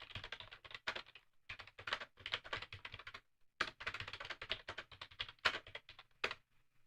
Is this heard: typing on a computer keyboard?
yes